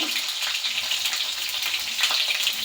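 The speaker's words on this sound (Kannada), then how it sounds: "ಸಾಸಿವೆ ಸಿಡಿದಿದೆ" Mustard seeds spluttering in hot oil, a dense close crackle of rapid pops over a steady sizzle that continues without pause.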